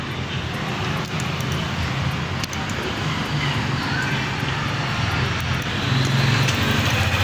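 Honda ADV150 scooter engine running steadily, a constant broadband droning hum with a low rumble, loud and close with no talk over it.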